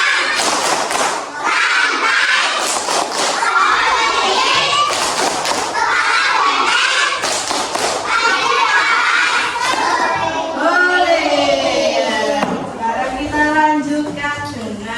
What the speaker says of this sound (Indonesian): kita tepuk dulu ya. Tepuk simbol Pancasila.